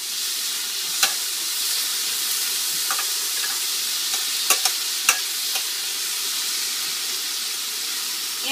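Chopped tomato and onion frying in oil in a warm saute pan, giving a steady bright sizzle with a few sharp pops and scraping stir sounds, close by and with no talk.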